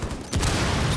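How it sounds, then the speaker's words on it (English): Gunfire in a video game opens after a brief quiet and becomes a dense, loud burst of shots that fills the rest of the moment. "they just shot that up"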